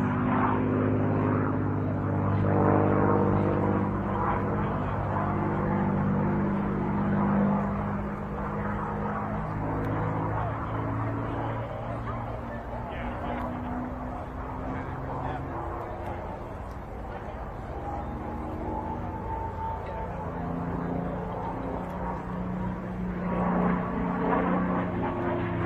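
An aerobatic airplane flies a four-point roll at an air show, its engine drone rising and falling in pitch as it maneuvers at a distance, with an announcer talking over it throughout.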